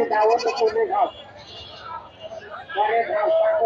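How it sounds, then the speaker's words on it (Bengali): Goats bleat loudly and close by at a busy goat market, several wavering cries in quick succession, with the murmur of people in the background. "ছাগল, শুধু ছাগল আর ছাগল।"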